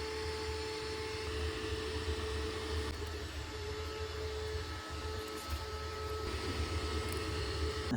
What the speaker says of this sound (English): So I'll just take the shop vac now and vacuum that right out.